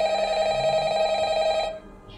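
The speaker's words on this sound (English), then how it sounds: "of course, the phone had to ring." Telephone ringing in a Minecraft horror game at night, a single steady electronic ring tone lasting about two seconds before cutting off, clear and fairly loud.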